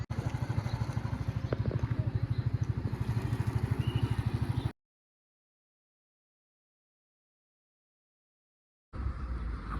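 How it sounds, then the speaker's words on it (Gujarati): Motorcycles of a BSF stunt team in training put out a steady, close engine rumble with a pulsing beat for several seconds, cut off into silence, and then return just as loud. "BSF વાળા કરે બાઇક ઉપર સ્ટન્ટ ને એવું, તેની ટ્રેનિંગ ચાલે."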